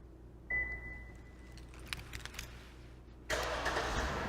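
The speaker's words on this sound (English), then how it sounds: "And the vehicle will start." A 2014 Lexus IS250 started by an aftermarket remote start: a thin sustained tone, a few soft clicks and relay ticks, then the engine cranks and catches into a steady idle, heard close and alone.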